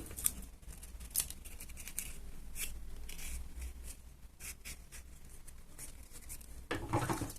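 Scissors snip through paper while trimming a handmade paper action figure, a series of quiet, crisp cuts at an irregular pace, close up with no talking.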